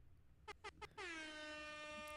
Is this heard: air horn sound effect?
yes